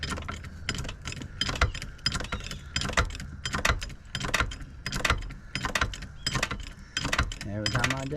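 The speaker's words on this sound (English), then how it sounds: "you gotta watch your jack, Paul" Jack lifting a mobile home during underpinning work, a series of sharp ratcheting clicks and metallic clanks in an irregular rhythm up close, with people talking around it.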